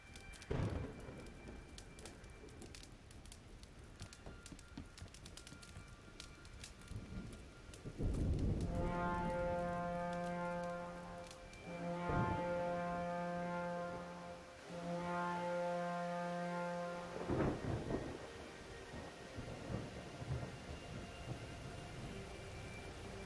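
A rainstorm in the video game Diluvian Winds: a constant hiss of rain runs throughout while rumbling thunder rolls in and swells loudly in several long, heavy bursts, then fades back to rain.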